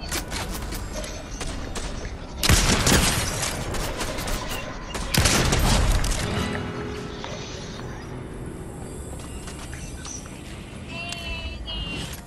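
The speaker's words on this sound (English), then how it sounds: "I hear shooting." Gunfire rings out nearby outdoors, with a couple of loud bursts of rapid shots and sharp cracks standing out over a steady background.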